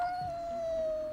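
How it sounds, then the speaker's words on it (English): A single drawn-out cat meow from the Persona 4 video game, a clear, steady, fairly quiet tone lasting about a second. "There's a cat."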